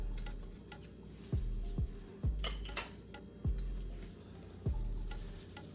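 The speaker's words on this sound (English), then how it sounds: "we're gonna run a butter knife along the edge to loosen it" Faint metallic scrapes and soft clinks as a butter knife runs around the edges of hot sticky toffee pudding moulds, several separate strokes spaced about a second apart, quiet and close with no talk.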